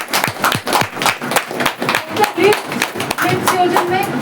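Audience at a Women's Day celebration event clapping in a quick, rhythmic unison beat, loud and close, with a few voices and someone speaking faintly between the claps.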